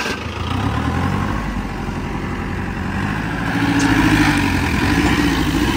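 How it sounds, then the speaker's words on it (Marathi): A tractor engine strains steadily to haul a pickup truck out of deep mud, its continuous low rumble swelling louder partway through, with no voices. "तो समोरून ट्रॅक्टर आला आता या ठिकाणी आणि ट्रॅक्टरने ओढून काढणार आहे हे पिकअप"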